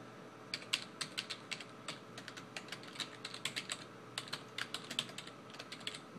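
Steady typing on a computer keyboard while entering a search in Maya software, with quick, fairly even key clicks running throughout at close range and no talking.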